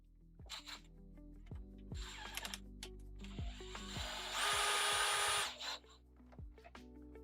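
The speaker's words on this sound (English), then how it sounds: "I'm now loosening all the bolts on the other rail." Bolts on a CNC machine rail being loosened, first with a run of ratcheting clicks and short whirs, then a steady buzzing burst from a power driver, close up with no voices.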